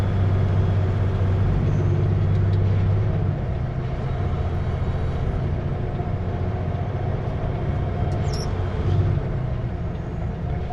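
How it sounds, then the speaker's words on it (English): Heavy truck on a Canadian highway rumbles steadily close behind, a low continuous engine and road drone inside a Super B rig cab with a brief higher whine late on. "Oh, now the truck's on our bumper."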